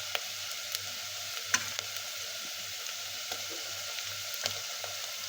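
Masala of onion, garlic, coconut and ginger sizzles steadily in hot oil, a continuous close frying hiss with a few soft stirring clicks and no voices.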